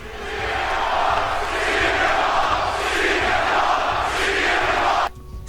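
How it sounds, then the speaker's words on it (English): A packed wrestling arena crowd chants the name CM Punk in unison, a loud, dense roar of thousands of voices sustained for about five seconds before cutting off abruptly. "Thousands of possessed voices chanting his name at moments that had absolutely nothing to do with it."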